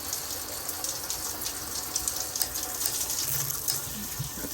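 A rainfall-setting shower head sprays water in a dense, steady hiss, close and continuous, with no talk.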